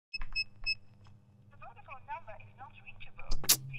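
A telephone call is dialed, with a few sharp electronic beeps at the start, warbling ringback tones in the middle and a loud burst near the end, with voices talking faintly underneath.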